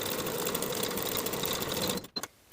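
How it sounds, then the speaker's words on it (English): A sewing machine stitching a French seam on a pant pocket with a 3/8 inch seam allowance, a fast steady mechanical whir running close for about two seconds, then stopping with a couple of small clicks. "Now sew this French seam with a 3/8 inch seam allowance."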